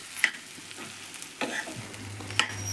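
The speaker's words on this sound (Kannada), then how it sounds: "ಒಂದು ಸ್ವಲ್ಪ ಸಣ್ಣ ಗ್ಯಾಸ್ ಸಣ್ಣ ಇಟ್ಟು ಇದು ಫ್ರೈ ಮಾಡ್ಬೇಕು ನೋಡ್ರಿ." Sabudana fries in oil over a low gas flame while being stirred, giving a faint, soft sizzle with a few light scrapes and taps of a spoon in the pan.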